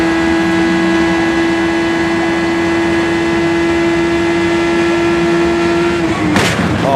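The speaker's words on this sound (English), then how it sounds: "Oh, something broke on the car." Onboard an IndyCar during a crash, a steady engine drone holds for about six seconds before a sudden sharp crack and crunch as something breaks on the car near the end.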